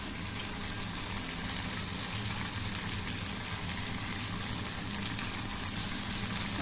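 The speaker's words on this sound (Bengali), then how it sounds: "এখন এটাকে ভালো করে কষানো হবে।" Pomfret fish curry sizzles and bubbles steadily in oil with a little water added, a continuous soft frying hiss with no voices.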